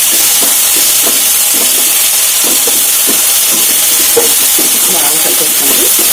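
Rock salt being stirred into a sizzling tomato masala mixture in a pan, a steady loud fry-hiss running throughout with soft scraping stir strokes over it.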